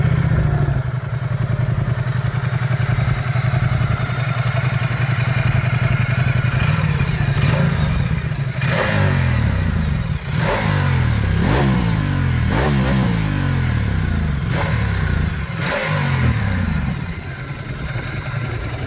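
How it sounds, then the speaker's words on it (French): A Ducati Diavel 1260 S motorcycle, a 2021 model, idles with a steady low rumble and then gives a series of sharp throttle blips, about seven quick revs spaced a second or two apart. The sound is close and loud, with no talking. "Et pour une Ducati, ça fait pas trop de bruit, je trouve."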